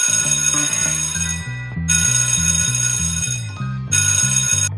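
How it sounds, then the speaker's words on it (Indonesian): A school dismissal bell in an animated film rings loud and close in three long electric bursts separated by short gaps. A repeating low melodic pattern runs beneath it, and no one talks. "Nah, ini yang ditunggu-tunggu, bel pulang."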